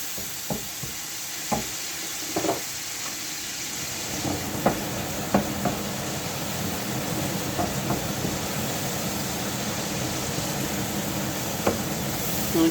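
Spices sizzle in hot oil for dal tarka, a steady frying hiss with a few sharp crackles and pops, close by, with no talking.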